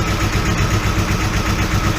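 The knocking diesel engine of a 2008 New Holland LB115.B backhoe loader idles steadily at close range, a dense rumbling drone with a rapid, regular pulse and no voices.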